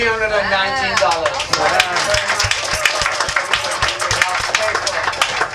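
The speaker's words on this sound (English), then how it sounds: "I want you to give yourself a round of applause" An audience at an arts and culture event gives itself a round of applause: dense, continuous clapping from many hands, with a voice talking over it at first.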